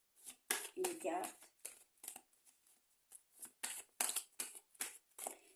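Cards for a reading are drawn and handled in a series of quick, crisp flicks and shuffles, close by, with someone talking over them throughout.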